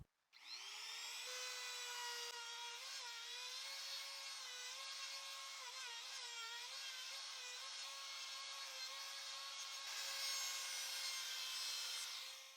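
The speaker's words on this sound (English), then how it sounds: "The router will be used again, but now with a 45-degree bit to bevel the edges of the piece." A router fitted with a 45-degree bit bevelling the upper edges of a reclaimed wood piece, a loud sustained high whine that starts abruptly, wavers slightly as it cuts, and runs unbroken alone.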